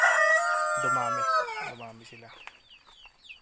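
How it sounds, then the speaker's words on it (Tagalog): A group of about 29 small chickens crows and clucks close by in a backyard pen, with a stuttering crow and repeated clucks, then faint chirps under someone talking. "yung maliliit na manok"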